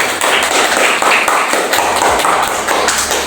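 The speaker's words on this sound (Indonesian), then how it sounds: "Tepuk tangan dulu" Students clap their hands together in a classroom, a dense burst of close, sharp claps lasting a few seconds with a faint thump underneath.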